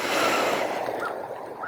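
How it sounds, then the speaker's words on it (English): A deep cleansing breath during a yoga practice: one long, close breathy exhale that tapers off softly, with no speech. "seal it with 3 deep cleansing breaths"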